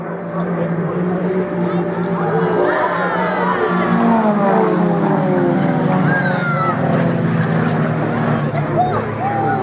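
Propeller aerobatic aircraft of the Royal Jordanian Falcons fly a three-ship formation display at an airshow, their engines droning loudly and shifting in pitch as they pass, mixed with crowd noise.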